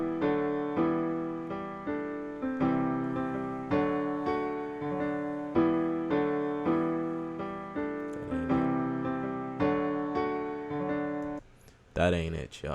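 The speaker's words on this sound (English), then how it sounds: "I'll actually just play the piano without the sound effects right quick." Dry piano melody played in FL Studio with no effects: clear, evenly paced notes and chords, each decaying quickly, close and alone, cut off near the end.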